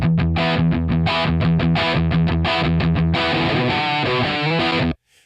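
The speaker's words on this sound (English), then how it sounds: "Channel 2 is much richer on the low frequencies and a bit more fuzzy." Electric guitar played through a modelled rock amp head on its fuzzy, bass-heavy second channel, loud and close: a run of rhythmic distorted chugs, then a sustained smeared chord that cuts off abruptly near the end.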